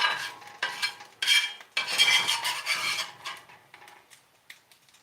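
Metal utensil scraping across a cast iron skillet while cooking liver and onions, a run of close, rough rasping strokes in bursts that grow quieter and sparser toward the end.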